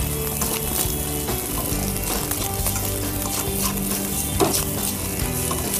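Boiled rice is stirred and fried in a pan, giving a moderate sizzle with scraping strokes under a sustained background hum, close and fairly loud.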